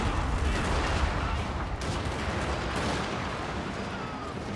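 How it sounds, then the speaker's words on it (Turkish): Cannon and artillery fire in the Total War: Shogun 2 Fall of the Samurai battle game: a dense, continuous barrage of booming shots and rumbling blasts, loud and sustained with no pauses. "Şunları bir top atış yapalım da moralleri bozulsun."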